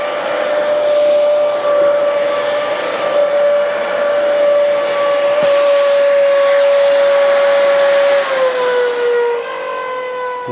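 A steady, loud motor whine with a strong constant tone runs throughout, dropping slightly in pitch near the end, from a Dyson Ball upright vacuum cleaner running close by in a garage.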